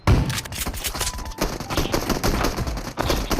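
Rapid gunfire from a PUBG Mobile team deathmatch match in the Library map, with dense bursts of automatic shots repeating close and loud throughout, some sharper single reports cutting through.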